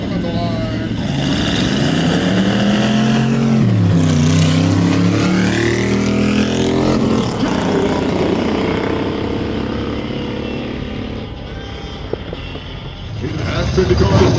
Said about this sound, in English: Joey Lafari out of Riverside, California, that 28 Roadster pick up 630 in the near lane.